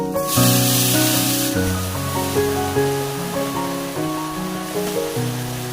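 Garlic, chili and onion hit hot oil in a pan before greens are added, bursting into a loud hiss that eases into a softer sizzle and flares briefly again near the end. Tuneful music plays underneath.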